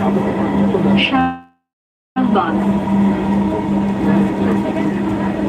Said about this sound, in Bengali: Shahbag this train is bound for Uttara North